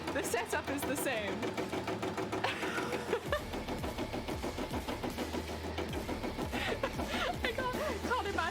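A sewing machine runs in a home sewing setup for a cosplay build, a fast rhythmic stitching whir, continuous and close, under soft talk and background music.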